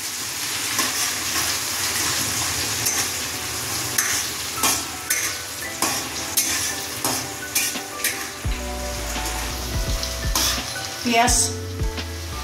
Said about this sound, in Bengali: কুচানো পেঁয়াজ দিয়ে দিলাম। লাল লাল করে ভাজতে থাকবো।